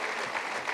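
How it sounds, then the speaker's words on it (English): Brief burst of audience applause at a youth empowerment event in Mpumalanga, dense steady clapping from a crowd, loud and alone without talk. "Let's clap hands again for her."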